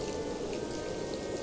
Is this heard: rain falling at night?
yes